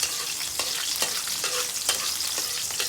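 Ingredients hit a hot pan for a bottle gourd and sardine sauté, a steady bright sizzle with a few stirring scrapes, close and continuous without speech.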